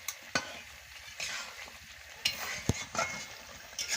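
A spoon stirs a cabbage, eggplant and potato curry sprinkled with roasted ground cumin, scraping through the pan in several distinct strokes over a soft, steady sizzle.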